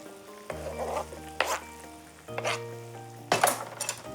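Sliced onions dropped into boiling broth in a pan for oyakodon make soft bubbling and sizzling hiss, with a few sharp bursts and light clinks of utensils, close and fairly quiet.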